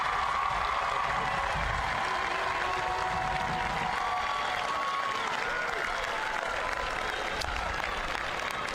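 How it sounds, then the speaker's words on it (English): A large commencement audience at a University of Memphis spring graduation ceremony applauds families, friends and supporters, with dense, steady clapping that lasts throughout at an even level. "if you would please give a round of applause for your family, friends, and all of those supporters"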